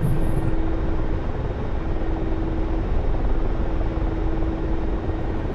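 A Mi-24P attack helicopter in a video game whines and drones steadily and loudly while restarting its takeoff sequence, with a thin sustained engine tone running throughout.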